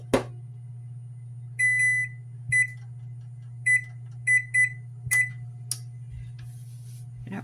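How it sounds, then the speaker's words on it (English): A kitchen oven's control panel beeps as it is set to preheat to 400 degrees, giving a run of short, clear electronic beeps, some single and some in quick pairs, over a steady low hum in a quiet room. "While I do that, I'm going to preheat my oven to 400 degrees."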